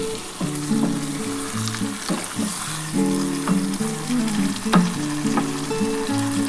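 Fish curry made with aar fish sizzles and fries steadily in a pan, with repeated scraping and stirring strokes that stay close and fairly loud, and no voices.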